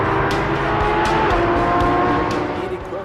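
A Porsche 911 GT3 RS drives hard through a curve, its engine a loud, sustained roar with pitch shifts and faint tire noise, while a person talks over it.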